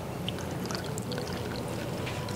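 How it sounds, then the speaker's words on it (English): A small amount of water is poured into a container, a soft continuous trickle lasting a couple of seconds, close but fairly quiet, with no talking. "I'm gonna put little bit of water"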